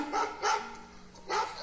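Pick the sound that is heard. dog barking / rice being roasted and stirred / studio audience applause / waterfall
dog barking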